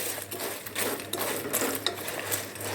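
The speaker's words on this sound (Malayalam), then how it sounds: "നന്നായി ഇളക്കി കൊടുക്കാം." A traditional Kerala sweet is stirred as it fries in a pan, giving a continuous close sizzle with irregular scraping and clicking strokes and no talking.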